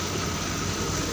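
A Honda Scoopy Fi fuel-injected motorcycle with a shifted TP sensor and a sputtering fault, engine held at high revs, a steady dense roar running unbroken and close throughout.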